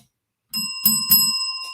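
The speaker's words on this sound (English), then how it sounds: "little bell for Nick getting that in place" A little bell sound effect rings out alone after a moment of silence, one bright chime followed by two quick strikes whose ringing tones linger and fade.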